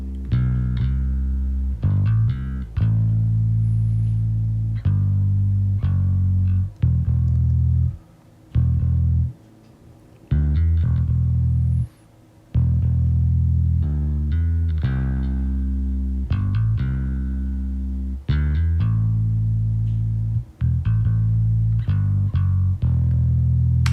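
Bass and a lower sub bass layer from a symphonic metal mix play together as a heavy, sustained low-end line. Chopped, rhythmic phrases are broken by brief gaps, with no voices.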